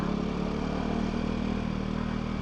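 A motorcycle engine runs steadily while riding through traffic in Bulacan, a close, continuous mid-pitched drone with slight rattle and no clear revving changes.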